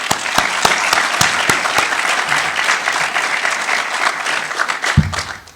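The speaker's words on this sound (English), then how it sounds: "A round of applause." Loud, close applause from a crowd at a graduation ceremony, dense steady clapping with a few sharper individual claps standing out, sustained for several seconds before fading.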